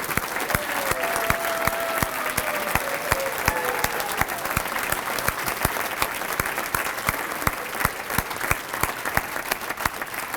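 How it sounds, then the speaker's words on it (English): An audience at the Detroit Bowling Hall of Fame program applauds its Hall of Famers, sustained dense clapping from a crowd that keeps going steadily for about ten seconds. "how about a big round of applause for all of our Hall of Famers?"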